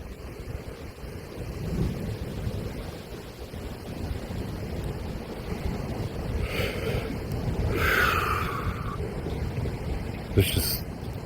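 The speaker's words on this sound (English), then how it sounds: "just a lot of wind all around us. Really, really, really strong wind." Strong wind roars across an exposed hill outdoors, buffeting the microphone in gusty waves that swell and fade, with a voice speaking over it in places.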